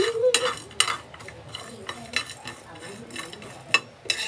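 Okra fry being stirred in a pan: close scraping and clinking strokes of a utensil against the pan, in an uneven rhythm with soft frying hiss between them.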